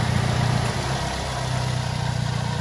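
A 2007 Daihatsu Terios TX manual petrol engine idles steadily and smoothly, a low even hum with a faint rhythmic pulse and no other sounds.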